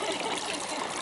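Water trickling and streaming steadily over a marble sphere fountain in Dobruška, a continuous close wash of flowing water with no voices.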